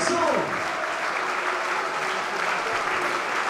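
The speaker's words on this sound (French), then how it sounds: "On les applaudit, ça aussi c'est le travail de l'ombre." Crowd applauding staff at the Aviron Bayonnais rugby club squad presentation, a dense, steady wash of clapping filling the room, with faint voices mixed in under it.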